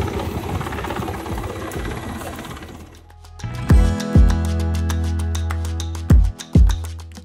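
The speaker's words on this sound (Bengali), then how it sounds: "হেলিকপ্টার দেখো" A helicopter making a landing at Cox's Bazar airport, with a loud, close, steady rotor and engine drone and its rhythmic thumping that holds throughout, heard alone without talk.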